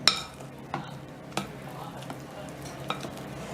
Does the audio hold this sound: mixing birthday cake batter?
yes